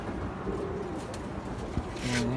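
Racing pigeons coo in a loft, a soft low murmur of several birds close by under steady background noise, with a brief rustle and a louder coo near the end.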